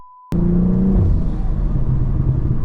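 A BMW M240i engine roars loudly as it accelerates, deep rumbling revs climbing right after a brief tone cuts out, close and sustained with no talking.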